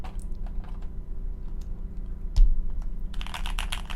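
Keystrokes on a newly built, thick-sounding mechanical computer keyboard, with scattered clicks that turn into a faster burst of typing near the end, close and fairly quiet.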